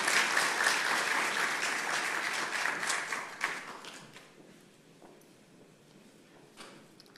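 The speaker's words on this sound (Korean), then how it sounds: "수고하시는 연합회장님들을 위해서 박수 좀 보내주시기 바랍니다." Applause from a church elders' meeting congregation, dense clapping at the start that gradually tapers off into a few scattered claps and quiet.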